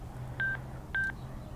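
Two short electronic beeps sound as a phone connects to a Sena 20S motorcycle intercom audio system, each a clean tone about a half second apart, clear and isolated over low background hum.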